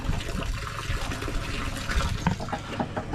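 Water drains out through an opening after a clog is cleared, a steady gurgling, splashing flow heard up close and fairly quiet, with no voices.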